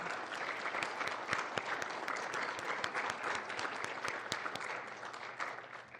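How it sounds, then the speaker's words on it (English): Steady applause from a crowd at a mayor and council meeting, dense clapping throughout at an even, moderately loud level with no voices standing out. "Let's give a round of applause in support of those standing here"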